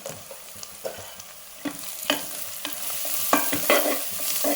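Cumin powder and Kashmiri red chilli fry in hot oil for chicken biryani, a close steady sizzle with soft scraping stirs of a spoon in the pan.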